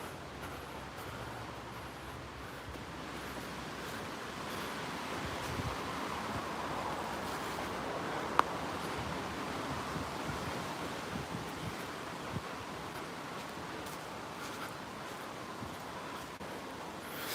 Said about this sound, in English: Hear the wind up there.